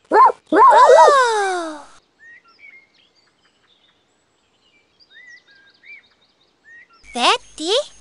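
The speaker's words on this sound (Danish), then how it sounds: "Det var en hund." A cartoon dog barks in the 1998 Teletubbies PC game, a burst of high, bouncy yipping barks at the start, quiet chirpy game effects in the middle, then two more short yaps near the end.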